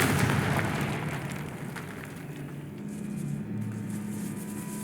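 A Confringo spell blast in the video game Hogwarts Legacy, set in a decaying catacomb, sounds as a broad, loud rumbling burst that fades slowly into a steady low roar with a faint hum underneath.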